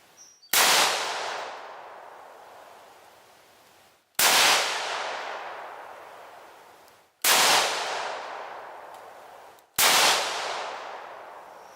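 A Swiss Arms Black Special rifle fires four loud, sharp shots roughly three seconds apart, each a sudden crack followed by a long fading decay, with nothing else heard in between.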